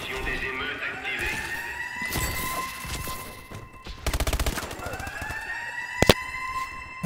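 A video game's riot suppression system fires in rapid bursts of gunfire over a wailing siren tone, with dense rattling volleys and a few sharp bangs near the end.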